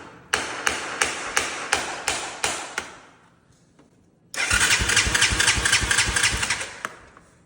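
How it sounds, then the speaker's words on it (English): The electric starter on a cheap mud quad ATV with a suspected bad starter or relay cranks in a regular thumping series. After a brief pause the engine cranks again in a loud, sustained churning burst. "Sound like our starter relay's going bad."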